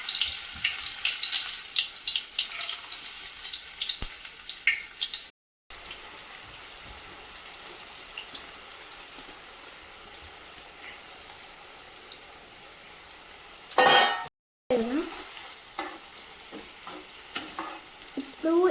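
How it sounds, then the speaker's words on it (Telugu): Sliced banana chips frying in hot oil, a dense close sizzle with scraping stirs and splashes, broken by two brief gaps and a sharp burst of bubbling as more slices go in. "మన ఆయిల్లో ఈ బనానా చిప్స్ వేసేద్దాం."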